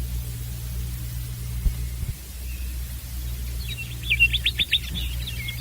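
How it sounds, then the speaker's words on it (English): Nightingale bursting into song on a branch close outside a window, a brief run of quick trilled chirps late in the clip, over a steady low hum and hiss. "Suddenly, close to the window, there was a burst of lovely song. It was the living nightingale, perched on a branch outside."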